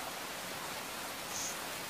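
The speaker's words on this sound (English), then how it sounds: "Oh, there's rain." Steady rain falls in an island-survival video game, a soft continuous hiss that stays even and fairly quiet throughout with no talk over it.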